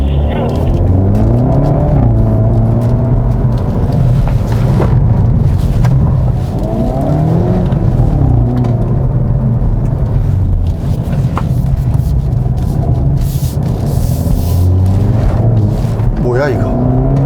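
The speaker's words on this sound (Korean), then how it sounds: "다음 차량 출발." A Hyundai Veloster N with dual-clutch transmission pulls away on a gymkhana course in sport mode, its engine rumble loud and steady throughout with wind buffeting, and voices heard under the noise.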